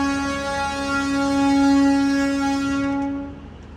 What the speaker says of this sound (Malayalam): ഇതാ ട്രെയിൻ എടുത്തിരിക്കുകയാണ്